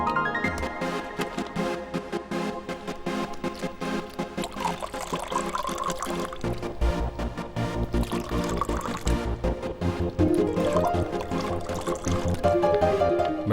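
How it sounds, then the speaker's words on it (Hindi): Water is poured into a glass, a steady trickling splash running for several seconds under a dense layer of background music. "पानी तो डालो।"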